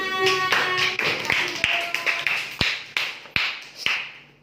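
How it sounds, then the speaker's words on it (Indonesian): A sixth-grade class claps together in a classroom, a series of sharp, distinct rhythmic claps about twice per second, close and fairly loud, while a voice talks over the start. "Tepuk tangan"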